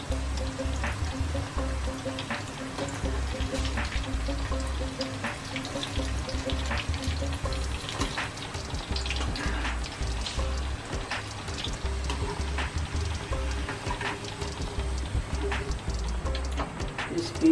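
Pieces of leftover chapati deep fry in hot oil, a steady close sizzle and bubbling hiss that continues evenly, with a faint voice speaking underneath.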